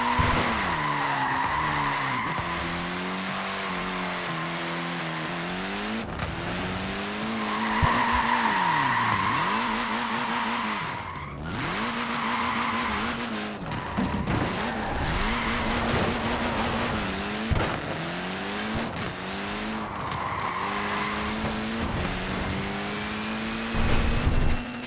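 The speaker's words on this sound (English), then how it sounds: "Look at that, laying down some rubber there." Car tyres skid and squeal in Forza Horizon 4, a steady loud screech with engine tone that sweeps up and down through repeated drifts, heard alone with no talk.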